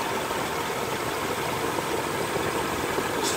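Nissan 3.3 V6 engine idling with a misfire in cylinder 2, heard up close as a dense, steady rumble with a slightly uneven, rough texture and no talking.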